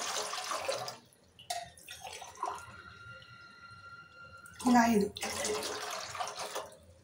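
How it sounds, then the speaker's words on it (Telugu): Water poured in several glassfuls onto rice for a Mughlai chicken dum biryani, splashing and trickling into the pot between spoken counting. "ఇప్పుడు 5 గ్లాసుల వాటర్ పోసుకున్నాం."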